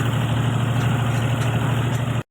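A tractor engine runs at a steady low rumble with three people riding aboard on a potato farm, a continuous close, loud drone that holds evenly before cutting off abruptly at the end.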